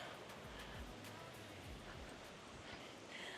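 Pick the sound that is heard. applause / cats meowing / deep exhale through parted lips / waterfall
waterfall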